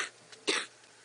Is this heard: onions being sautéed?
no